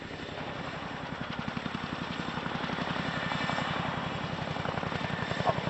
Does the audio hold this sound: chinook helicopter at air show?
yes